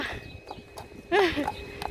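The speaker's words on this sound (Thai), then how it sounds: "this is one big horse" Big Amish horses being led to wash, hooves clip-clopping in a few uneven steps near the listener, while someone speaks over them.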